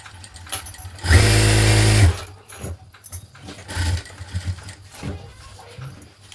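A domestic sewing machine stitches a strip onto a blouse in one loud, steady, high-pitched mechanical whir lasting about a second, followed by quieter handling clicks and rustling of fabric.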